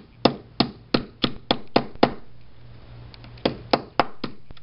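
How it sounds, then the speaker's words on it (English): A hammer taps a metal lock strike plate into its groove on a wooden door frame: about ten sharp knocks, several quick in a row, then a pause and a few more, close and crisp. "A couple taps from a hammer help it to seat right into the groove that it was in before."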